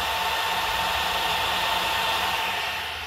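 The fans of a Netgear business-grade network switch roar at power-on in a steady, loud broadband whoosh with a faint whine. The sound holds constant for about three seconds, then eases slightly at the end.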